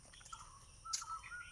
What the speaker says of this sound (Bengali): দেখ চারিদিকে খালি পাখির ডাক